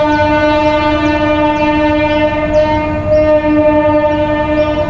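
A train sounds a loud, sustained horn blast, steady and close, with rumbling rail noise underneath and no voices.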